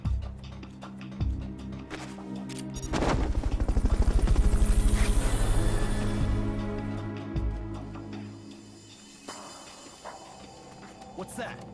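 Fulton recovery helicopter in the Metal Gear Solid Peace Walker video game: rotor thrum swells to a loud, close peak mid-clip and then fades, layered with game music and sound effects.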